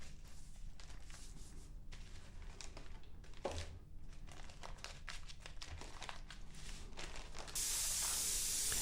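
A SATA Mini Jet 4 spray gun with a 0.8 setup at 40 psi hisses a steady, soft stream of semi-opaque bright blue airbrush paint, growing louder and brighter near the end.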